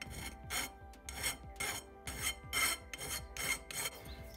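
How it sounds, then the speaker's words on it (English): Metal file rasping the cut end of tubing, a close run of rhythmic back-and-forth scraping strokes, about two per second, with no talk. "just kind of filing down"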